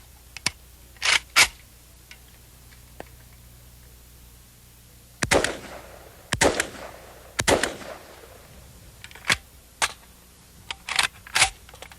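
A semi-automatic firearm fires one round per trigger pull, giving a string of sharp, loud cracks at irregular intervals, some single and some in quick pairs, with quiet gaps between them and no talking.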